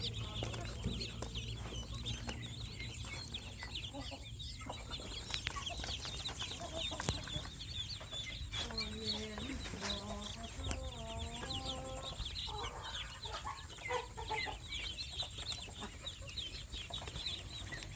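Two-day-old ducklings peep in quick, high chirps, scattered and repeated over a quiet background hum.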